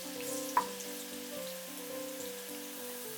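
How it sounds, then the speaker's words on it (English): Chopped garlic frying in hot vegetable oil in a pan over high heat gives a steady, soft sizzle and crackle, with one sharper tick near the start and a faint tonal hum running underneath. "When the oil is hot, add the chopped garlic."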